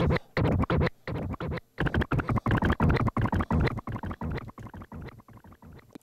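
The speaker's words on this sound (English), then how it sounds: "that's the delay, and it sounds something like this." Delay effect on a Pioneer DDJ-REV1 controller in Serato DJ, with rapid stuttering repeats of a dense music loop echoing in quick bursts, moderately loud and free of talk.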